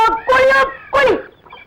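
A loud, close chicken clucks twice in quick succession, the calls drawn out and squawky, fading into a quieter murmur.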